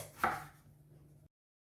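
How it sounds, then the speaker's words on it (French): A knife dices potatoes into cubes on a cutting board, one sharp chop near the start followed by a short run of softer cutting taps before it stops. "On commence à couper notre pomme de terre en dés."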